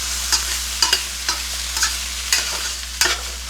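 Thinly sliced potatoes fry in a pan for a Cajun andouille sausage and shrimp dish, a steady close sizzle broken every half second or so by soft scraping stirs, with no talking.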